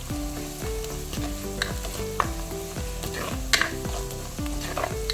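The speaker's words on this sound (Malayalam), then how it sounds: "ഉപ്പ് ചേർത്ത് കഴിഞ്ഞാൽ സവാളയും എല്ലാം നന്നായിട്ട് വേഗം വഴറ്റി കിട്ടും." Onions sauté with salt in a pan, giving a steady close sizzle with repeated scraping strokes of stirring in an even rhythm, and no one speaks.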